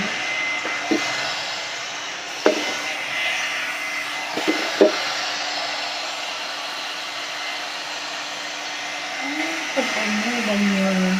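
A Temu hair dryer brush runs on its high setting, a steady close broadband whoosh with faint clicks and brief handling knocks, and a voice speaks briefly near the end.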